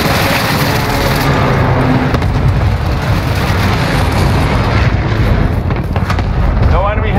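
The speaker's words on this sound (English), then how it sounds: "Bringing down an airstrike" A Warzone airstrike brings a continuous barrage of heavy booming explosions and rumbling blasts, loud and close, with a radio-style voice talking over the din.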